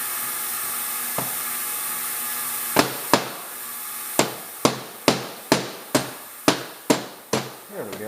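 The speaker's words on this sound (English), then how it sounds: "hammer that one out" A hammer knocks a part out of a hole: about ten sharp metallic blows at a steady pace, each ringing briefly, loud and close, after a short quiet stretch at the start.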